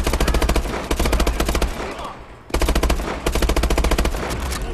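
Rapid automatic gunfire in the Call of Duty Advanced Warfare campaign, loud dense bursts filling most of the stretch with a short lull in the middle before the firing resumes.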